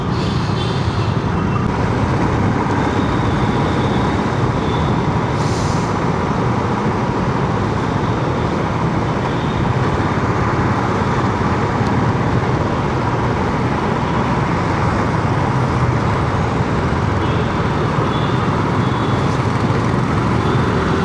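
Steady city road traffic during the evening commute, with a dense, continuous roar of cars, buses and trucks at a signal-controlled junction, broken by a few brief high horn-like tones.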